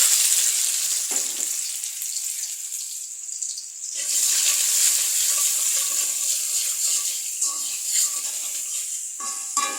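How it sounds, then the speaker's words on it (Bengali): Dried chilies and onion sizzle in hot oil on a stove, a constant close frying hiss with light clatters of stirring and a short dip midway. "এই চুলায় শুকনো মরিচ দিয়ে দিলাম, তেল দিয়ে দিলাম, পেঁয়াজের কাঁচা লবণ দিয়ে দিলাম।"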